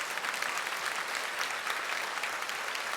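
A Korean church congregation during a Sunday worship service gives a brisk, dense round of encouraging applause, loud and continuous across the short span.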